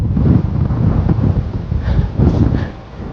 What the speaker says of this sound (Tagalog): Grabe ah. Lakas ng hangin.